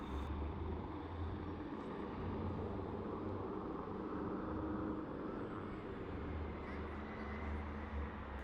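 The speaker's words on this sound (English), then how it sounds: "That's a New Jersey State Police helicopter. It just took off from Caesar's roof." A New Jersey State Police helicopter lifts off from a casino rooftop in Atlantic City, heard as a steady, broad engine and rotor roar that persists throughout at a distance.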